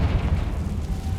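A Confringo spell blast in the video game Hogwarts Legacy: a deep, rumbling boom that fills the whole moment, heavy in the low end and sustained, with no voices over it.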